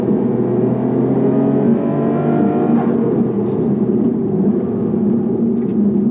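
A Nissan R32 Skyline GT-R driven hard on a racetrack, its engine droning loud and steady from inside the car with a rising pitch sweep as it accelerates, then settling into a sustained roar.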